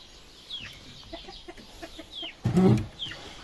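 A young rooster, this season's early cockerel, gives several soft clucks and short calls at low volume, with one louder scuffling burst near the end.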